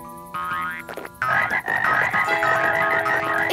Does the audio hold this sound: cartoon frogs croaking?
yes